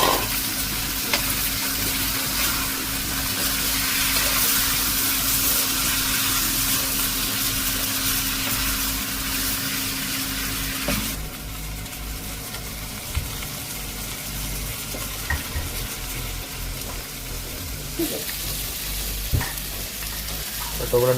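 Chopped tomatoes drop into a pan of village-style fish tempering, bringing a steady close sizzle and frying hiss with occasional stirring scrapes; the loud frying eases a little partway through and carries on to the end.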